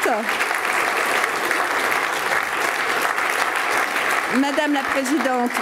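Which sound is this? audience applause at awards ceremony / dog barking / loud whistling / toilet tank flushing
audience applause at awards ceremony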